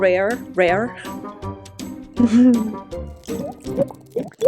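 A person imitates the sound of water with their mouth, making a string of wet, drip-like pops and plops that come close and clear in short, uneven bursts.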